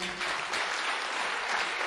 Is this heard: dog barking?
no